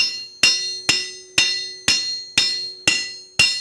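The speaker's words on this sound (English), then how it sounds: "Let's go ahead and get it over to the anvil here. And you can see it's hot. I'm just going to smash it around." Hot metal being hammered on an anvil during hand forging of a hook rack: seven evenly spaced, sharp ringing blows about half a second apart, each with a short metallic ring, loud and close.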